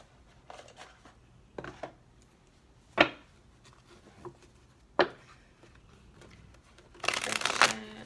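Tarot cards shuffled and handled in quiet, scattered riffles and taps, with two sharper snaps and a louder rustling flurry near the end, close and without talk.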